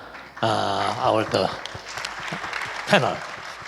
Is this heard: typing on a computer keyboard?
no